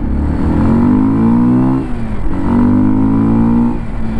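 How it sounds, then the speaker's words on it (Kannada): Dirt bike engine revving hard, rising and falling twice in loud, close bursts with a throaty mid-pitched roar. "ಸೊ ಇದು ಪಕ್ಕ ಡರ್ಟ್ ಬೈಕ್ ಗುರು, ಅದೇ ಫೀಲ್ ಕೊಡ್ತಿದೆ."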